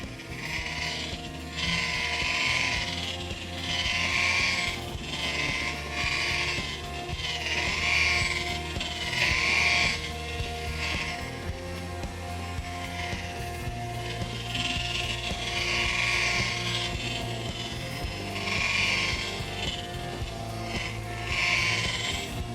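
A rotary polisher spinning at about 1,000 RPM across a Tesla hood during cutting and polishing, a continuous motor whir with rhythmic rubbing swells repeating every second or two throughout.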